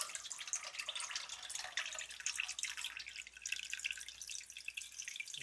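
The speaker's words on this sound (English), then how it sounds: "once it starts pouring out, it just pours right out" Water trickling and splashing steadily as it spills out of a home aquaponics system, a continuous bright pouring and dripping with no voices.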